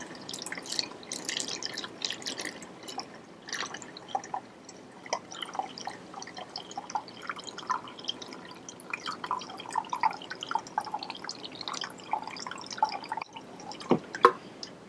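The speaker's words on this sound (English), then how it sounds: "You can hear the water running into the balloon." Water pouring from a pitcher into a balloon, a faint, continuous trickling and gurgling with small drips, close by and steady for several seconds without speech.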